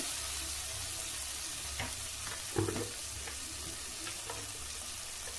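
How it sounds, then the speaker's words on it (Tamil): Mutton curry ingredients sauté in a pan for a mutton kulambu, a steady close sizzling hiss throughout, with a brief clatter of stirring near the middle and no speech. "கொஞ்சம் வதக்கிக்கலாம்"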